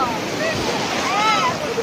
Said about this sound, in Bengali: বিশাল ঢেউ, বিশাল ঢেউ